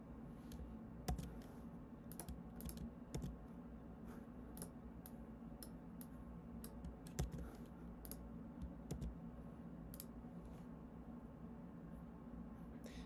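Typing on a computer keyboard while entering an email and password, quiet irregular key clicks over a faint steady background hum.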